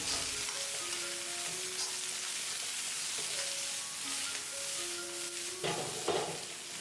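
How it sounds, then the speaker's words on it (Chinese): Ginger, garlic and small chili peppers stir-fry in a hot wok, a steady close sizzle broken by scraping strokes of the spatula, with a louder clatter near the end; no talking. "接下来加入切好的姜蒜、小米椒，快速翻炒均匀，把姜蒜炒出香味，小米椒炒出辣味"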